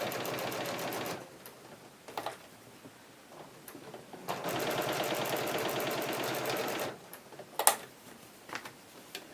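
A domestic sewing machine running an overlock stitch along the edge of a fabric nesting basket, fast rattling bursts of needle strokes with short pauses between runs, close and clear.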